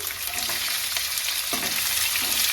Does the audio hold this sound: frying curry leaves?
yes